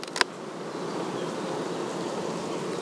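Buckfast honey bee buzzing in a steady, soft drone, close by and alone, with a brief sharp knock near the start.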